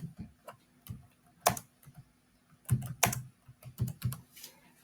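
Keys clatter on a computer keyboard as a search query is typed, quick irregular bursts of clicks with short pauses, close and fairly quiet.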